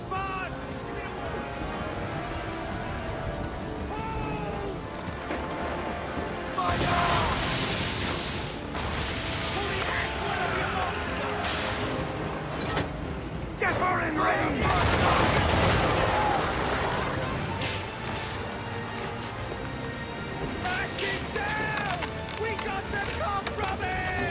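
A naval battle in Assassin's Creed III brings bursts of ship cannon and gunfire, with heavy booming volleys around the middle amid a busy, rumbling battle din and shouted orders from the crew.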